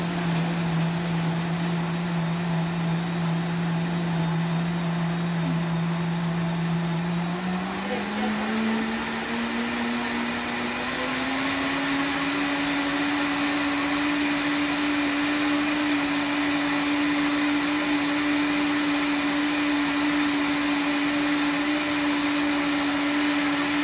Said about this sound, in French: On mélange ça jusqu'à temps que les noix soient vraiment réduites en fine poudre.